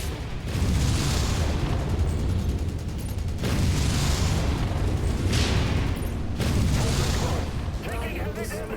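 Heavy rumbling explosions and booming impacts in a MechWarrior mech combat video game, loud and continuous with repeated blasts and crackling debris, as an incoming missile strikes.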